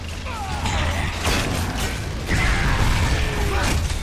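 The Torque Bow in a Gears of War match sticks an enemy and detonates: a mechanical ratcheting, creaking charge layered with a whooshing swell and a crunching burst, loud and busy throughout amid game noise.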